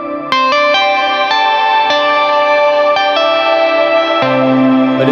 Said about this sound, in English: It's going through my XFX on some crazy ambient patch.